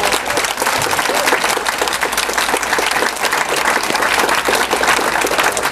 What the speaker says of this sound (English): Would you, by your applause, thank all three of our panelists?